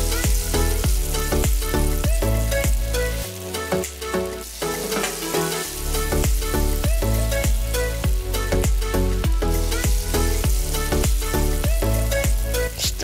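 Grilled fish sizzling as it is turned over on the grill, a loud, continuous frying crackle broken by repeated scraping and clattering knocks from the turning, with a brief dip in the middle.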